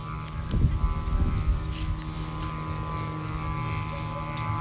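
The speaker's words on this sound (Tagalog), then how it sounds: "Lakas ng hangin." Strong wind during heavy rain roars and buffets steadily against the microphone, with a low rumbling drone underneath and gusts swelling near the start.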